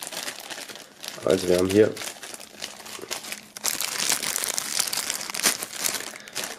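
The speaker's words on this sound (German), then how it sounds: "drei Sachen hier noch in Folie sind, holen wir die mal raus" Items wrapped in plastic foil from a music merchandise box are unwrapped with loud, close crinkling and rustling that runs in bursts through most of the span, while someone speaks briefly at the start.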